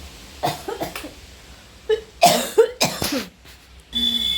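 A woman with a lingering cough lets out several short, harsh coughs in quick clusters at close range, with brief quiet gaps between bursts and no talk.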